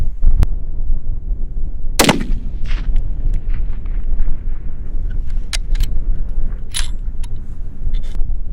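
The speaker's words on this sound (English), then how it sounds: "I'm about to shoot. Remember, this is shot number 5 at 880 with the new scope." A rifle fitted with a Sightron S-TAC 4-20x50 scope fires a single loud, sharp shot outdoors at long range, followed by a brief echoing tail and steady wind noise buffeting the microphone, with faint clicks and knocks afterward.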